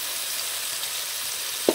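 Malabar spinach (pasalai keerai) sautéing in a pan, a steady close sizzle and crackle of frying with a brief stirring clatter near the end.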